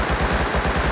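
A Thompson submachine gun in the video game Rust fires a short, close burst of rapid, evenly spaced shots, loud and continuous through the whole moment with no speech.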